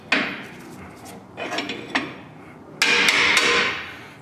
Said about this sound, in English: I used a punch, this one, and hammered it so it would come out